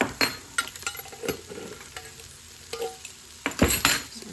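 Garlic being stirred into a pot of bacon cheeseburger soup: a spoon scrapes and clinks against the pot in irregular strokes over a faint sizzle, close and fairly quiet, with no talking.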